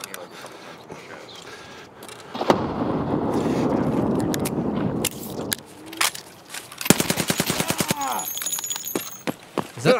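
Video game gunfire comes in bursts: sporadic single shots, then a dense stretch of rapid fire and a sharp volley of shots near the end, with voices talking through it.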